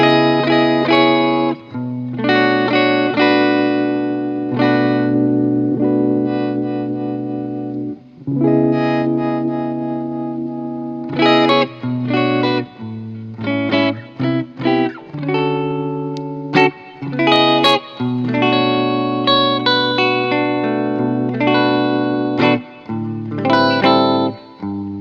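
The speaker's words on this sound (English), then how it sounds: "let's start with just some basic clean tones. Here we go, neck position, full humbucker mode." An electric guitar plays on a clean tone through a Blue Angel amp from the neck humbucker, a run of ringing chords and single notes with brief pauses between phrases, loud and alone.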